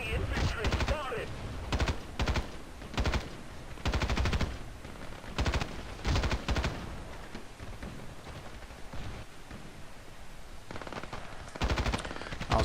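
Assault rifle in Battlefield Play4free fires repeated short bursts of rapid shots, loud and close, separated by brief pauses across the whole stretch.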